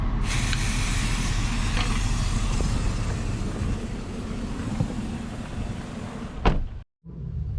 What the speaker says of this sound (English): I'll let the vehicle run for a little bit with this just spraying into the air